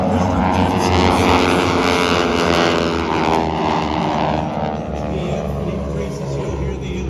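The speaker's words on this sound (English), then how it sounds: "Now the sound that you'll hear is the propeller pins." A propeller aerobatic aircraft with a 600 horsepower Pratt & Whitney engine performs at the Dayton air show, producing a loud, sustained droning hum with a steady pulsing buzz that eases slightly toward the end.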